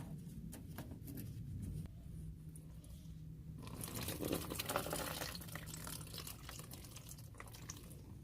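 Milky contaminated transmission fluid draining from a Kia Sorento under repair, a soft steady trickle and splash of liquid falling into a pan, faint and close with occasional drips and light clatter.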